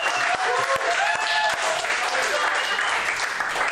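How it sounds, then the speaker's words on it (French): An audience applauds a guest arriving on a French-language NFL season-launch sports show, with steady, dense clapping filling the whole stretch and a few sharper individual claps standing out near the start. "je demanderai une bonne main d'applaudissement pour notre collaborateur, Shane Harper."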